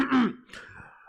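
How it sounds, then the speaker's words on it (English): A person clears their throat once, close and loud, followed by a softer second rasp, with no talk over it. "Let me clear my throat right quick"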